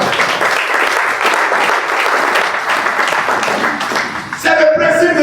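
A church congregation breaks into loud, sustained applause that fills the room, with crowd cheering mixed in and a voice emerging as the clapping fades near the end.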